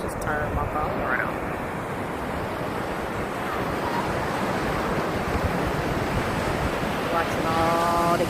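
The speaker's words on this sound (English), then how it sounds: "It's cold, windy." Strong wind buffets the microphone on a cold beach as ocean surf rolls in steadily, a broad continuous rush with a faint voice briefly in the background.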